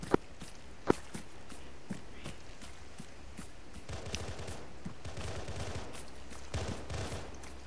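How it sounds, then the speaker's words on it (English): Scattered gunfire in a video game crackles at a distance, a few sharper nearer shots standing out among repeated muffled bursts, with footsteps shuffling and thudding steadily underneath. "I hear gunshots getting louder and louder."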